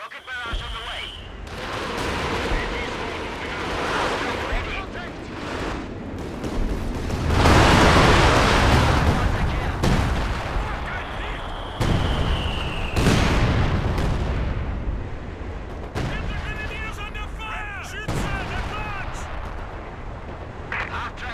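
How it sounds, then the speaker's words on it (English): A rocket barrage in Company of Heroes 2 sounds as a loud sustained rumble of booming impacts and whooshing launches. Heavy layered explosions swell and fade over about twenty seconds with battlefield din behind them. "Firing rockets. Rocket barrage on the way."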